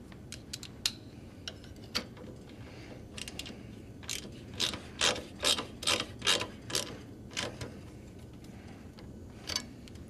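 A screw is tightened back into the plate on an Encore & XL passenger seat, a run of quiet clicking ratchet-like ticks that cluster in the middle and trail off, heard alone.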